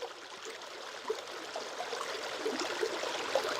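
Stream water runs over rocks in a soft, continuous trickle and babble with small splashy bubbles, fairly faint and with no voices.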